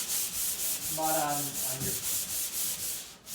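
Rhythmic back-and-forth scraping of a sanding screen over dried drywall joint compound, about a dozen even strokes, close and loud, with someone speaking briefly partway through.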